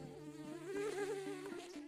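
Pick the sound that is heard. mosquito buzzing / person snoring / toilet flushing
mosquito buzzing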